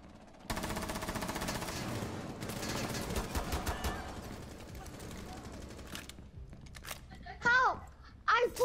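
Rapid automatic gunfire in Rainbow Six Siege, loud sustained bursts with brief gaps, fading near the end as a couple of short voiced shouts and radio-like calls cut in.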